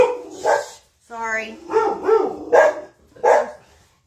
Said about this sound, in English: Lie down, no barking.